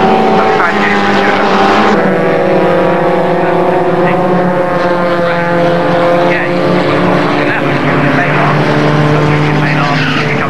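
Formula Ford race cars roar past at a hillside circuit, a loud engine whine that rises and falls in pitch as the cars pass, with a commentator talking over it.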